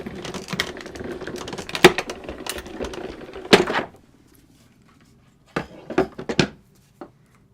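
A Silhouette cutting machine slices through stamped paper with a busy, rattling mechanical clatter for about four seconds, then a pause and a few scattered clicks and taps after it stops.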